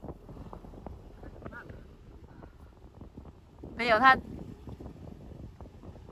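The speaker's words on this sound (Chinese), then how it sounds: "风声好大" Strong wind buffets a small boat out on a mountain lake, a steady low rushing roar across the whole clip, while people talk over it.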